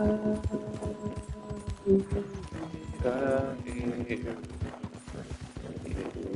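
Horse hooves clip-clop at a steady gallop in the Red Dead Redemption 2 video game, close and prominent, with a brief whinny and in-game music or ambience underneath.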